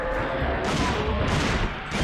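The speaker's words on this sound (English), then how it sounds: "Shooting dinosaurs." Gunfire in Dino Crisis 2 on PS1 as dinosaurs are shot: dense, sustained rapid shots and booming impacts, loud and continuous throughout.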